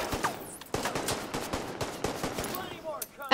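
Rapid turret gunfire from The Division 2 crackles in short repeated bursts at moderate level, with scattered game effects and a louder burst near the end.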